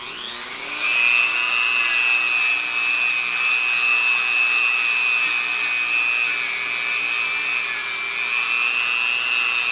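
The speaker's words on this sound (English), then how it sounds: "I'm going to go ahead now with the brass wire wheel and the Dremel, start cleaning up this combustion chamber." Dremel spinning a brass wire wheel inside the combustion chamber of a Kawasaki KZ650 cylinder head, a steady high whine that holds at full speed throughout, loud and close.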